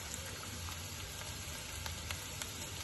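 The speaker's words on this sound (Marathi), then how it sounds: "आता चांगला भाजून घेऊया। कांदा थोडा भाजून झालाय।" Onion sizzles steadily in a hot pan while it is fried for a restaurant-style shahi malai kofta gravy. The frying is a continuous, even crackle with no talking.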